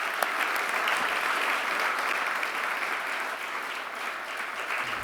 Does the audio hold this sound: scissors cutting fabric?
no